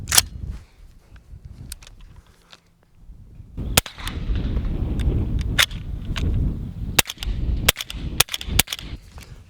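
A Keystone Lake Armory Ripsaw fires 200 grain Magtech rounds: one sharp crack, a quiet pause, then a rapid run of loud reports mixed with metallic clatter and a brief rumbling lull between shots.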